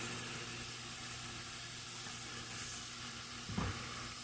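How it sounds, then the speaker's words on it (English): Sausage browns in a hot pan with a steady, broad sizzle and hiss throughout, plus one brief scrape or stir near the end. "while the sausage is browning, once the sausage is browned, throw in that block of softened cream cheese."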